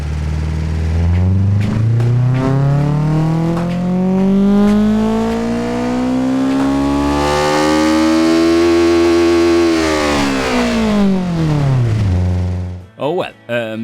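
A twin-carb kei car engine in the Automation game revs in one long pull, the whining note climbing steadily then dropping off sharply into a few crackling pops and bangs at the end, loud and close.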